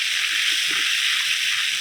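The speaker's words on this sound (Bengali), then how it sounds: "পেঁয়াজগুলো লাল লাল করে ভেজে নেবো" Chopped onions fry in oil in a wok, making an even, continuous close hiss of sizzling with no break.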